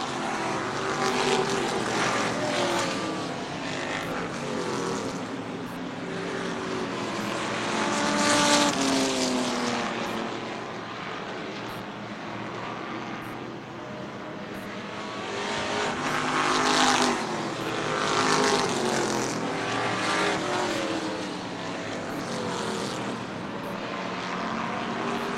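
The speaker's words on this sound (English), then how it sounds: "Three cars breaking away a bit from the pack." Race cars in a dirt track heat race roar past in a continuous loud engine din, swelling and fading as the pack passes, with three cars pulling away from the field.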